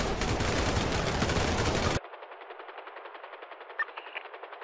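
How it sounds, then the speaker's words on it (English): Gunfire in a video game police chase: a dense, loud burst of rapid automatic fire for about two seconds, then a thinner, muffled stretch of continued shots at a distance. "Shots fired, shots fired, shots fired, shots fired."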